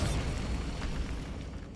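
A Bombarda spell explosion in the video game Hogwarts Legacy: a loud, booming blast with a rumbling low end that decays over a couple of seconds, heard alone.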